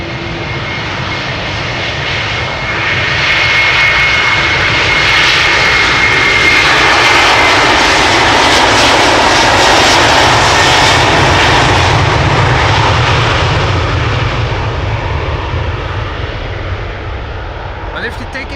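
A jet airliner departs Amsterdam Schiphol Airport with a loud, close engine roar. The roar swells to a broad, sustained rumble over several seconds, then slowly eases away.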